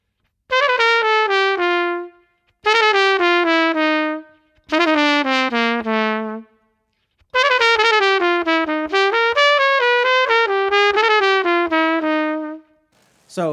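Melodic instrumental phrases of a dominant bebop scale, played in four clear bursts with quick sixteenth-note triplet ornaments on the third, fifth and flatted seventh, each run followed by a held note, a bright, close tone with short pauses between.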